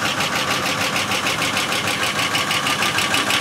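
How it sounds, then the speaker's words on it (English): A car engine that had seemed seized idles steadily after oil was added, a loud, close, even rhythmic chug with a faint knocking pulse and no voices. "Now I got it sitting here idling."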